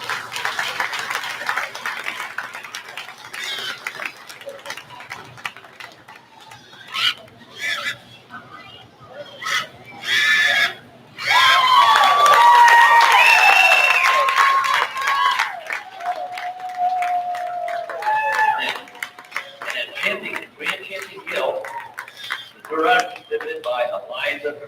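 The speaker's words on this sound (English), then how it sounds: "Cheer them on and congratulate them as we go." Audience at a 4-H swine show applauding and cheering, a sustained burst of clapping with whoops rising over an announcer's voice, amid a loud arena crowd.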